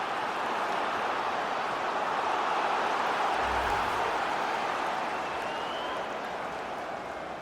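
Stadium crowd noise in FIFA 22 during an MLS match between Nashville SC and Los Angeles FC, a steady broad roar of cheering and applause that holds evenly throughout at a distance, with no clear commentary over it.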